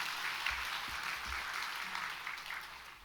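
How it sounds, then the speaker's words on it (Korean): A church congregation applauds during a worship service, a soft, steady patter of many hands clapping at a distance, fairly quiet and fading slightly toward the end. "우리 하나님께 영광의 박수를 한번 드리겠습니다."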